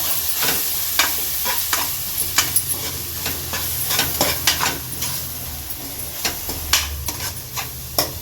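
Mutton trotter masala frying in a pan, a steady sizzle broken by repeated sharp scrapes and clinks of a spoon stirring at an irregular rhythm, close up.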